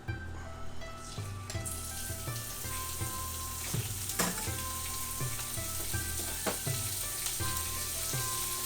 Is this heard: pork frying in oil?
yes